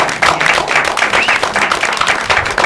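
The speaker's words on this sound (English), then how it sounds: "That deserves a round of applause." A studio audience at a late-night talk show gives a loud, dense round of applause, with rapid overlapping claps sustained for the whole stretch.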